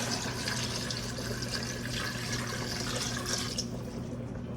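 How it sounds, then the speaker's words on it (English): Water running from a tap into a cooking pot while making Sunday dinner, a soft steady splashing flow that stays fairly faint throughout. "Let's take and drop us some water in here."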